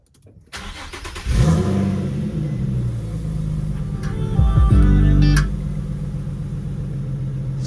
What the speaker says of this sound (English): we'll start her up one time for the camera.